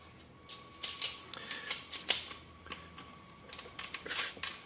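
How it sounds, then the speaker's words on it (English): Ratchet driving a nut with a fender washer and lock washer onto a mounting stud, a series of close, faint clicking bursts in uneven runs, with no talking. "and drive it on with a ratchet"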